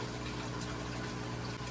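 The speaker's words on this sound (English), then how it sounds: "Still pumping in water strong." A Hygger water change pump pushes water into an aquarium with a steady, even rushing and gurgling flow, constant and close.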